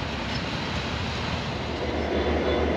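Broad, steady rumbling noise fills a cold train station in Bucharest, with a train rolling through and nothing standing out from the constant wash of sound.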